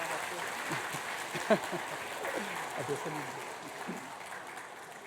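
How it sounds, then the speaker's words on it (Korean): Light applause from a congregation after a baptism during a Sunday church service, a scattered patter of clapping through the whole stretch with voices murmuring underneath. "박수 부탁합니다"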